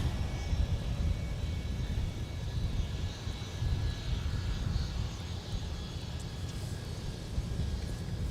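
A SkyWest airliner on the runway at Minneapolis–St. Paul airport gives off a low, broad, steady engine roar at some distance, with a faint whine above it and no clear talk.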